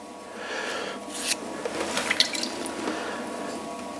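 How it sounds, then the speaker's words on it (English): Wet hands being re-wetted at a pottery wheel while throwing agateware mugs: soft splashing and dripping of water over a steady background, with a few louder wet splats and no talking. "Not starting to stick, so I'll get some more water on my hands."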